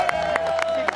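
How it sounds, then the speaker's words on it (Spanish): Brief burst of studio audience clapping and crowd noise on a Spanish-language TV talk show, loud and close, with a voice running over it. "Un aplauso"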